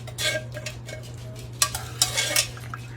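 A creamy chicken penne bake being stirred in a pot, giving several irregular scraping and clinking strokes of a utensil against the pot, close and fairly loud, over a low steady hum.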